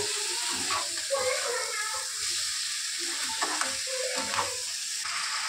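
Chicken pieces stir-frying in a pan with onion and capsicum, giving a steady sizzle with scraping stirs and occasional clatters, close and moderately loud throughout.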